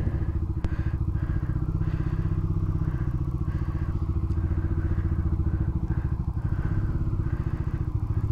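A family vehicle maneuvers as it tries to turn, its engine running with a close, steady, rapid chugging putter and light rattles throughout. No one speaks.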